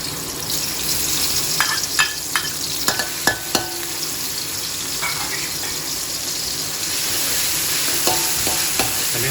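Coarsely pounded chili and garlic stir-fry in oil in a Thai home kitchen, a constant close sizzling hiss broken by scattered clinks and scrapes of a spatula against the pan, with no speech.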